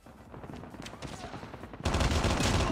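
Gunfire in a Call of Duty Mobile match, shots fired at close range, starts as rapid crackling bursts, then becomes a dense, louder roar of continuous firing for the last second.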